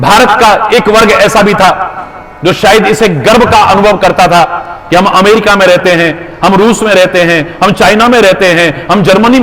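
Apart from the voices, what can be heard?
No distinct noise like a dog, phone or traffic.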